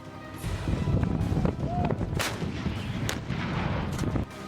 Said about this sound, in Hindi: इसमें सबसे अहम है ये 155 mm हावित्जर आर्टिलरी गन